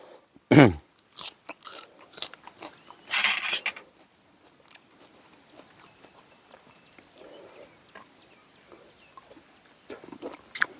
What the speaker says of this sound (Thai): เนื้อหอยนี่กรุบกรุบดีครับ